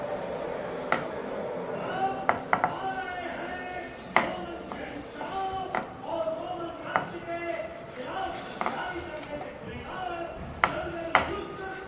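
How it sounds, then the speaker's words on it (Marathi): Rolled sesame chikki (til brittle) being cut into small pieces with repeated sharp knife taps against a hard surface, a steady series of close crisp chops mixed with faint kitchen clatter and some talk. "पातळ लाटून झाल्यानंतर त्याचे बारीक बारीक वड्या करून घ्या"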